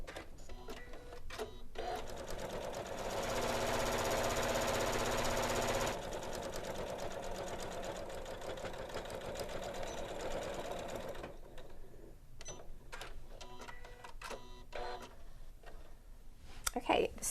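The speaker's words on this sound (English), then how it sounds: "Now we're going to stitch down the other edge." A Janome sewing machine stitches down the edge of a fabric bag, giving a steady, close mechanical whir broken by short runs and pauses, with someone talking over parts of it.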